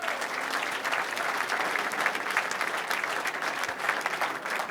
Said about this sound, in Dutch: Applaus voor de jury.